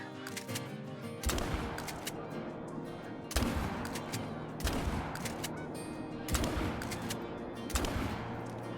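Heavy 10-gauge shotgun blasts fired at geese in a waterfowl hunting game, five loud booms spaced a second or two apart, each followed by a rolling echo over steady outdoor ambience.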